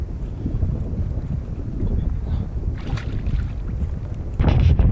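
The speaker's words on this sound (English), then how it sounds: "The wind is picking up and it's time for me to get off the water." Wind gusts across a lake and buffets the microphone on a fishing boat at Canyon Lake, a loud, rumbling rush that swells and drops, with splashes and a strong burst near the end.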